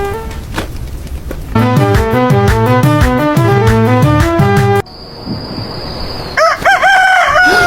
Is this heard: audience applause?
no